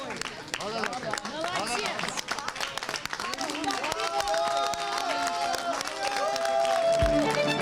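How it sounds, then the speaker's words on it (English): Airport arrival crowd of supporters cheering and clapping, a dense continuous roar of voices with applause that swells louder toward the end, with talk mixed through it. "At the airport over the weekend, Postanjan was greeted by cheering supporters."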